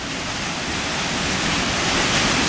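The Iadolina waterfall in Valea Iadului in the Apuseni Mountains roars as a dense, steady rush of falling water, loud and close, filling the whole moment with unbroken noise.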